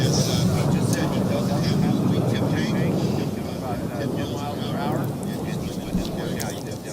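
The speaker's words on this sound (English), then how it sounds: "Listen to those jets go by those pylons." L-39 jets racing past the pylons at the Reno Air Races, a continuous loud roaring rush of jet noise with wind buffeting, swelling and fading slightly as the aircraft go by.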